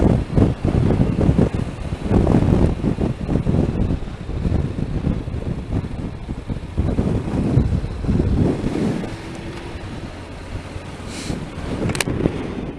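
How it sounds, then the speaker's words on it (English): Strong wind buffets the microphone at a campsite at Ruskin's Farm in the Yorkshire Dales, a loud continuous low roar with gusty swells throughout and no talking. "Windy, windy, windy."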